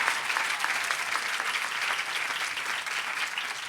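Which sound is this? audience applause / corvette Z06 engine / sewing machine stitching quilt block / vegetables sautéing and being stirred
audience applause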